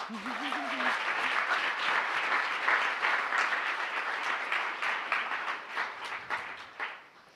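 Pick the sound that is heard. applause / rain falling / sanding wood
applause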